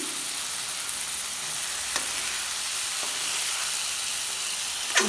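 Ghee goes into a hot pan of nearly dry Bengali curry and sizzles steadily and close for several seconds, with a few faint clicks of a utensil against the pan.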